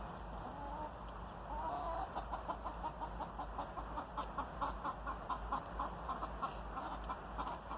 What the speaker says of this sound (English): Get out of here, little hen.